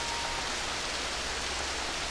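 Steady rain pours down in a thunderstorm, a constant dense hiss of drops on surfaces with no voices.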